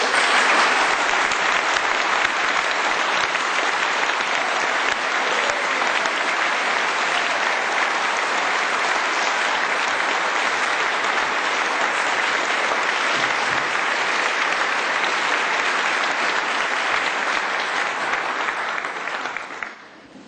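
Sustained audience applause welcoming David Ray Griffin to a lecture, a dense, loud wash of clapping that holds steady for about twenty seconds before tapering off at the end.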